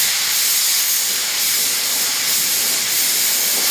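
Steady, broad spray-gun hiss lasting the whole stretch, close and even in level, as a second base coat is sprayed onto a repaired car bumper.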